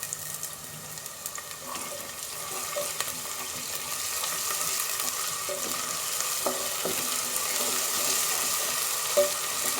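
Ginger garlic paste fries in a pan with a steady, close sizzle that grows slightly louder over time, broken by occasional scrapes and clicks of stirring.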